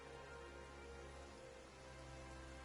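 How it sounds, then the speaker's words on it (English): Steady rain pours in a fantasy video game world, a soft, even patter on surfaces holding constant and faint throughout, with no voices. "Why is it raining all of a sudden?"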